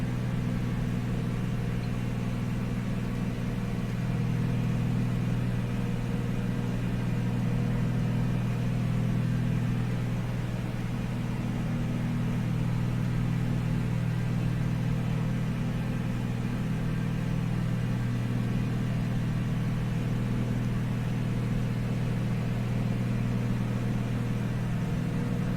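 A2A Piper Comanche piston engine in a flight simulator, throttled back to about 2400 RPM, drones as a steady, loud low hum that holds level and unbroken throughout, with no talk over it.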